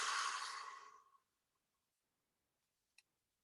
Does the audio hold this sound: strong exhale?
yes